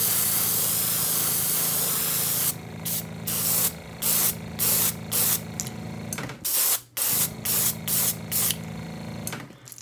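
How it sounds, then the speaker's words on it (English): Close airbrush hiss of opaque green paint sprayed onto a crankbait, a steady spray that turns into a run of short, regular bursts with a motor hum underneath. "take opaque green and spray the back and down a little bit"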